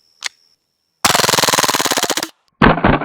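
A 3D printed MP7 gas airsoft gun fires BBs on full auto: one rapid, loud, evenly paced burst of about a second, then a gassy hiss trailing after.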